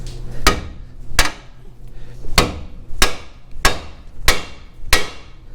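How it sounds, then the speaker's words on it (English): Hammer strikes on the steering knuckle of a 2001 Ford F150 4x4 to free a tie rod: seven sharp metallic taps spaced roughly evenly, close and clear, with no talking. "you should just be able to tap on the knuckle right here"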